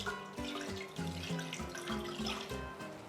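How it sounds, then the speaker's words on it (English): Water runs and splashes steadily into a large cooking pot, a continuous close pour lasting a few seconds with no talk over it. "to a large pot, I'm going to add about 3 cups of water"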